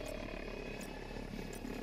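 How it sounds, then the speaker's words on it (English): A helicopter flying in the video game Battlefield 2042, giving a steady loud rotor and engine drone with faint rhythmic thumping throughout. "Helicopter."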